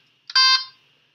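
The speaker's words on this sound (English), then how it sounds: "when I have the program running and I press up, it's going to capture that and you're going to hear a beep" A single short electronic beep from a LEGO EV3 Mindstorms robot confirming color sensor calibration, bright and tonal, sounds once against near silence.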